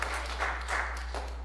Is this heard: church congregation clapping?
yes